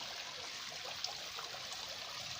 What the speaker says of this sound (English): This is exactly the waterfalls.